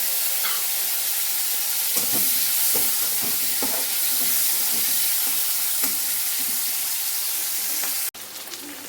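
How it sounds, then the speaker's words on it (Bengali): Chopped onion sizzles in hot oil tempered with panch phoron and bay leaf, a steady close frying hiss with soft scraping taps throughout, cutting off abruptly near the end. "এবার কেটে রাখা পেঁয়াজটা এর মধ্যে দিয়ে দেবো"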